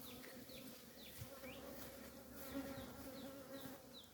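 Honeybees hum around hives being set up at an apiary, a steady close buzzing drone with individual bees whizzing past now and then, fairly quiet and with no talking.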